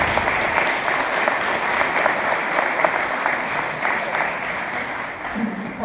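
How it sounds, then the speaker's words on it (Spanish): A church congregation in Mexico applauds warmly, giving a steady, dense wash of clapping from many hands that holds at full strength throughout, with faint voices underneath. "quiero que reciban con un fuerte aplauso"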